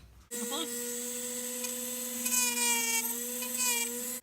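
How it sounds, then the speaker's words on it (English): A Dremel rotary tool cuts into a paramotor helmet, giving a steady high-pitched whine that starts abruptly and holds, wavering slightly as it bites, heard close with no voice. "Get my Dremel."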